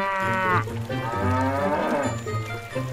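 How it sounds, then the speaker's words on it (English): A cow moos loudly and close by, letting out two long, drawn-out lowing calls one after the other, with nothing else heard around them. "Cow."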